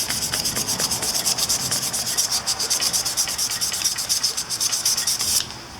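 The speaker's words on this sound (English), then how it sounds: "I'm just using 1000 grit sandpaper. That way I'm not taking too much metal off and I still get the rust." Fine 1000 grit sandpaper rubs back and forth over rusty metal on a 49cc Minarelli scooter engine part, making a close, rhythmic scratchy rasp of quick strokes that ends abruptly.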